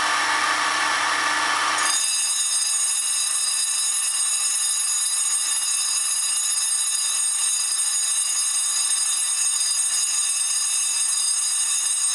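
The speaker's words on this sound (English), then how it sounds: "my sharpening stone is hitting the edge of the blade, but not the whole blade" A sharpening stone grinds against the blade of a leather skiving machine. A brief harsh grinding burst is followed by a steady high mechanical whine that holds for the rest of the stretch.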